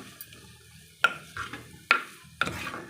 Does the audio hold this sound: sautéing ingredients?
yes